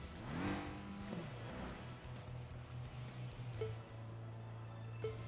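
A turbocharged car engine in the Tokyo Xtreme Racer video game drones at steady revs with gear shifts and brief turbo spin-up whistles, faint and continuous.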